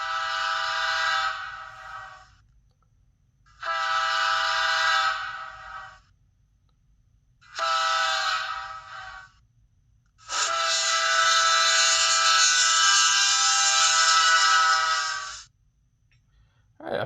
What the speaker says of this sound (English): It's almost like they gave you 5 different horn sounds.